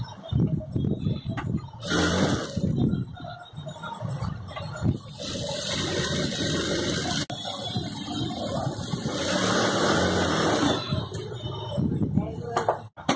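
A sewing machine stitches a patch onto army-style pants, its motor running as a steady, close mechanical whir with a few brief pauses and restarts.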